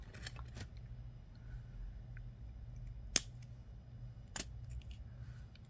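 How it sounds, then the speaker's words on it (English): Beading wire snipped with cutters while making a necklace: two small crisp clicks spaced about a second apart, near and faint over a steady low room hum, with a few soft handling sounds around them. "And we're going to cut the wire here on this side."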